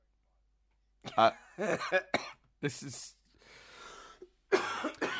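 Several sharp coughs and throat clearing burst out close to the microphone, with a few brief spoken words mixed in between.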